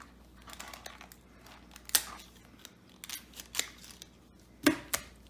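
Raw chicken wings are cut off, giving a few sharp, close snips and crunches, spaced irregularly over quiet crinkling sounds.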